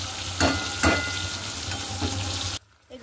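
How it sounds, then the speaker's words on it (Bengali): Pointed gourd (potol) sizzling in oil in a wok, a continuous close crackle broken by a couple of sharp scraping stirs, then cutting off abruptly into near silence. "এক পিঠ করে পটল ভাজা হয়ে গেছে,"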